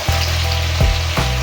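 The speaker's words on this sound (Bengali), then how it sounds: "এখন আমি এই যে ভেজে রাখা ময়দাগুলো দিয়ে দেবো।" Fried flour dough pieces drop into sizzling potato curry in a pan, producing a loud, continuous frying crackle with a few soft thumps and stirring bumps as the pieces go in.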